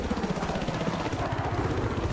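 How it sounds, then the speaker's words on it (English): A helicopter in the Battlefield 3 video game, its rotor chop a steady, fairly loud throb with a continuous engine rumble and no voices. "oh, there's a helicopter there"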